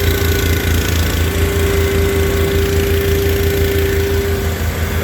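Onan or Perkins engine idling steadily just after a cold start with the choke partly on, a loud, constant close-up rumble with a throbbing low pulse and a sustained whine, running alone without talk.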